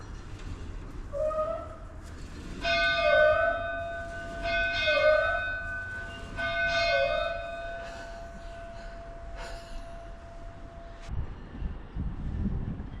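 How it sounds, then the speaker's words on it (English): A railroad bell at a railroad museum rings in three slow, evenly spaced bursts of clanging strikes with a lingering metallic hum, then quiet outdoor noise follows. "let's see if I can ring the bell here without falling over"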